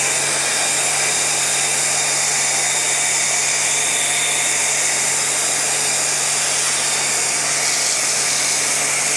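A pressure washer at its maximum 180 bar drives water through a NIXX snow foam cannon fitted with a 1.25 orifice, giving a loud, steady hiss and whine that runs unbroken throughout with no talking.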